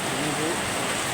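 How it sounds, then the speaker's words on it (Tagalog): Heavy rain pours steadily at night in Dasmariñas, Cavite, a dense, even broadband wash filling the short clip with no distinct breaks, close and moderately loud. "rinig nyo guys, lakas ang buhos ng ulan."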